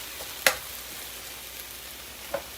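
Onions sautéing in a pan for a cheesesteak, a soft continuous sizzle with two sharp clinks of a utensil against the pan.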